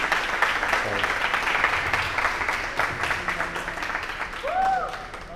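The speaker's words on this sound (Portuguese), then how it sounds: "Uma grande salva de palmas para o Cláudio, por favor." Audience applause at the FESTIPUB 2022 stage event: a steady, dense wash of clapping that carries through the whole stretch, mixed with crowd voices and a brief whistle-like tone near the end.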